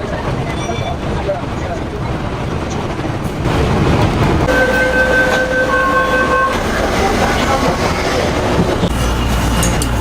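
A train pulls into Lo Wu station at the Hong Kong–mainland China border: a constant loud rail rumble swells midway, with sustained tonal whines from brakes or motors over the rolling noise.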